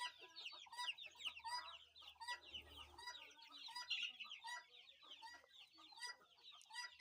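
Native country chickens and chicks on a farm near Neyyattinkara cluck and cheep continuously in dense overlapping calls, faint and steady, with no talk.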